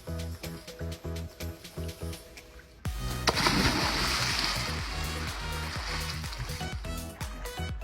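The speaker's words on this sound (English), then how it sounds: "So I'm now going to do a giant stride into the water and give you the okay." A person does a giant stride entry into the water: a sharp splash lands partway through and gives way to sustained sloshing and bubbling, over a rhythmic pulsing background and with no voices.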